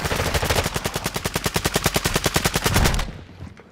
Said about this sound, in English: One's shooting at me.